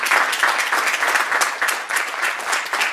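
A lecture audience gives the panel a round of applause, steady, dense clapping from many hands at moderate volume, continuous and unaccompanied by talk.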